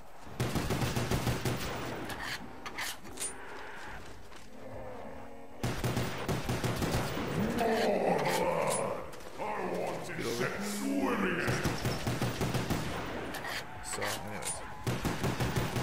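Repeated pistol gunfire in the zombie shooter game Call of the Dead, sharp shots going off in rapid bursts amid game action, with someone talking over much of it.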